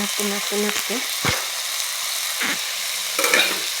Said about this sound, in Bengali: নরম হলে তার মধ্যে এই যে আলুগুলো দিয়ে দিলাম, দিয়ে একটু নাড়তে